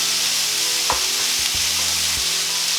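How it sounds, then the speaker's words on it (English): Jackfruit sautéing in a pan gives a continuous loud sizzle, with a few sharp knocks from stirring scattered through it and no talking. "we're going to saute it all until this jackfruit starts to A, dry out, and B, start to sort of brown a little bit"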